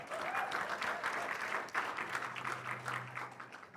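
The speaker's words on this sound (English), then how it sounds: "Je vous en prie, sous vos applaudissements" A conference audience at an African investment event in Kenya claps steadily, a dense, even wash of applause filling the room throughout, with a faint low hum appearing near the end.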